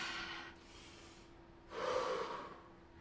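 Heavy gasping breaths from a person recovering after bodyweight jump exercises, two loud breathy bursts close to the mic separated by a quiet pause, with no talking.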